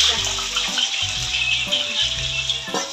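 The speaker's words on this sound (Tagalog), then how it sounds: "mainit na ang ating mantika. At na ibubuhos yung ating 3 kilong mani." Three kilos of skinless peanuts poured into hot cooking oil, giving a steady loud sizzling hiss with rushing, crackling texture that continues through the whole stretch, no talk over it.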